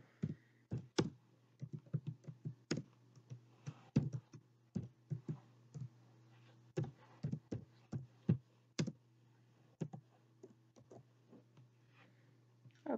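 A computer keyboard clatters with irregular clicking keystrokes as a question is typed into an online form, quiet and close, with short pauses between bursts.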